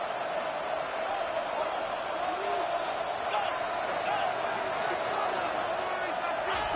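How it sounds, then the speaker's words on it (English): A dense, steady roar of a large stadium crowd at a college football game on third down fills the space, loud and continuous with no breaks. "the noise from this crowd on 3rd and 4."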